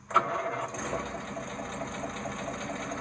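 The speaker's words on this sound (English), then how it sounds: "Crank her up, Rich." A 50-year-old Alvis car's engine cranks and catches with a sharp start, then settles into a steady, close idle.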